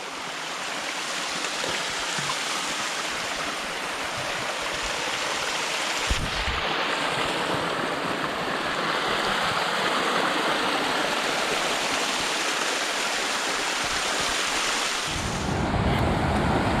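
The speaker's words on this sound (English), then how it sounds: "Spring life coming right out the rock." Spring water pours straight out of rock along a Great Divide Trail hike near Waterton, a steady, close rushing flow with a windy wash that holds for the whole stretch without voices.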